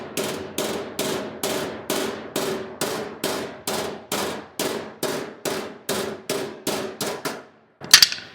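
Hammer tapping on a sheet metal panel of a rat rod truck during hand forming: about fifteen evenly spaced ringing metallic clangs close up, each decaying quickly, then a brief pause and one sharp louder strike.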